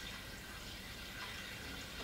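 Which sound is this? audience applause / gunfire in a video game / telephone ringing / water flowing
water flowing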